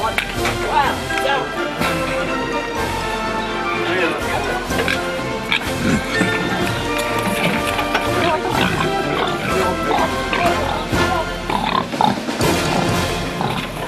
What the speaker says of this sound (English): forgot to shut the piglets back in their pen, so it's now pig mayhem.